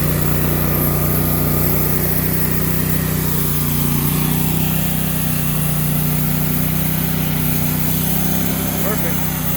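A large 64-inch sawmill's motor runs at a steady, loud drone with a constant low hum throughout, occasionally overlaid by faint voices.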